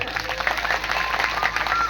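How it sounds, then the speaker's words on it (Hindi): A small group of people clapping in a steady patter of hand claps, moderately loud and close, lasting a couple of seconds without talk. "सही हो तो ताली बजाओ ना"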